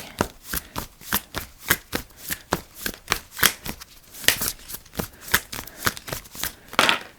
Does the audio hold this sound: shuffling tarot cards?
yes